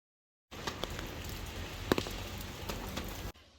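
Steady rain falling outdoors in Faro, Portugal, a broad continuous patter with a few brief louder drops, heard alone without any voices.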